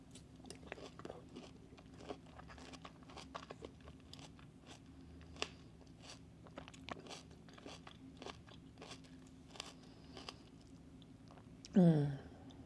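Someone crunches and chews fruit such as guava or passion fruit up close, with irregular crisp bites and mouth sounds spread throughout and a louder rustling burst near the end.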